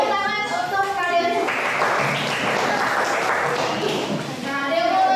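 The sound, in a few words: class applause after presentations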